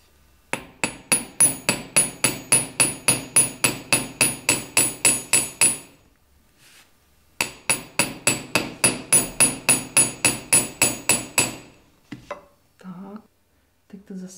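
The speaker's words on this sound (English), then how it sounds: "I'd like to hammer the spiral," A hammer beats the spiral of a handmade metal ring in two fast runs of bright, ringing strikes, near and loud, followed by a few scattered taps and soft voice.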